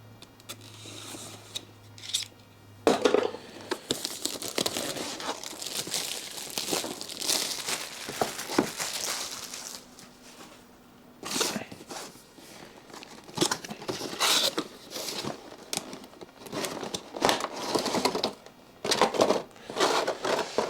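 Plastic packaging of a Radiomaster Zorro radio transmitter crinkles and crackles as it is unwrapped, with bursts of rustling and tearing close up and a few sharper snaps throughout.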